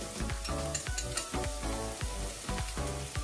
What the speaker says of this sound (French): je vais remuer. Et je vais mettre mes 3 gousses d'ail.